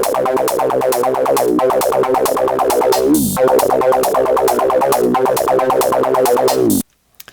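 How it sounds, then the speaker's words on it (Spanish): Acid techno pattern of a squelchy, resonant synthesizer line over steady rapid hi-hats, loud and continuous with a brief filter sweep midway, then cutting abruptly to silence near the end. "Entonces, ¿cómo suena esto con el sintetizador?"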